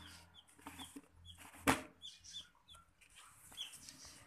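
Soft high peeps from three-day-old green junglefowl chicks scattered across a quiet background, with a sharp knock in the middle.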